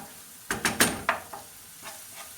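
Tomato paste and peppers frying in a pan, with soft sizzling and a few sharp stirring clatters close by, then fading to a quiet hiss.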